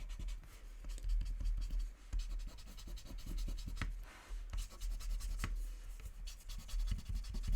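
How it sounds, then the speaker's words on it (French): Eraser rubbing out small pencil lines on paper cutouts, a close, continuous dry scrubbing with quick back-and-forth strokes and a brief pause partway through. "je vais gommer mes petits traits"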